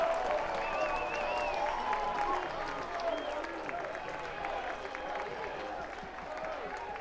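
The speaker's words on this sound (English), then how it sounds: "He was asking for the applause" Fans at a college baseball game between Virginia Tech and East Carolina applaud and cheer in the stadium, a broad, distant crowd roar with whistles, steady and moderately loud.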